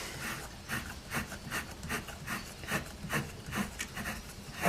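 Hand unscrewing the rotor bolt on a Fisher and Paykel washing machine, a rhythmic scraping and rubbing rasp repeating roughly twice a second at close range, with no talk.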